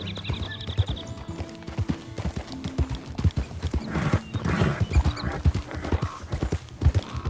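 Horse hooves clip-clop steadily as a horse is ridden in Red Dead Redemption 2, a close, even rhythm of hoof strikes running throughout, with a possible brief whinny.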